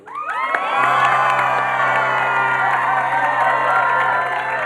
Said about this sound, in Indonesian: mungkin akan dibantu penonton untuk tepuk tangan sama-sama